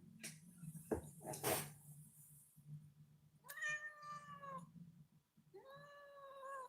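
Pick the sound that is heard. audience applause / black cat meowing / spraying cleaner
black cat meowing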